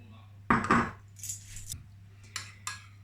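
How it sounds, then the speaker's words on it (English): Spoon stirring freshly squeezed lemon juice with maple syrup in a small bowl, a few close clinks and scrapes in quick bursts, then quieter taps, with a low steady hum underneath and no talking. "And I'm gonna give this a good mix."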